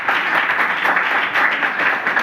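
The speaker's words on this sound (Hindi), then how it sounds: "इन लोग के लिए पहले जोरदार ताली बजाएं" An audience at a Bihar Police selection celebration at a coaching center in Pakari Bazar gives steady, dense applause, many hands clapping at once, filling the room without voices on top.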